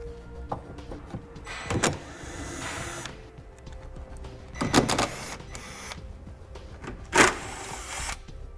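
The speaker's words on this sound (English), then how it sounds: "we're going to be using a 10mm socket to remove these" A powered 10mm socket spins off plastic nuts holding an underbody panel on a car, in three short whirring bursts separated by quieter pauses, fairly close.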